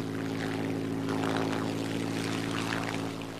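A Supermarine Spitfire fighter's propeller engine drones in a steady, loud, continuous tone with a low harmonic hum throughout and no talk.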